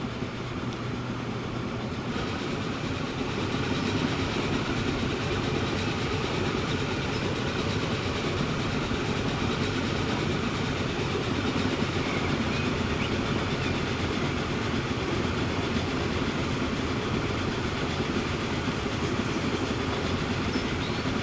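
Train rolling steadily in Transport Fever 2, a continuous mid-level rumble with faint rail clatter running unbroken throughout, no voices.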